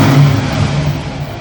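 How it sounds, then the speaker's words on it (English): A fuel-injected engine revving with no accelerator pump, a loud close mid-pitched rev that rises briefly then settles back down within about a second and a half. "so let's see how good it revs."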